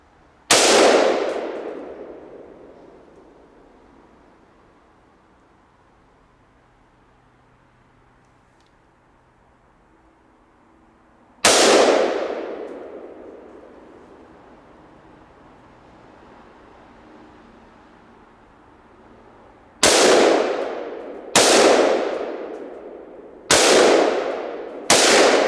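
An AR-style rifle fitted with a Geissele Super 42 buffer spring fires loud, sharp shots outdoors: two single shots about ten seconds apart, then a quicker string of four, each followed by a rolling echo decay.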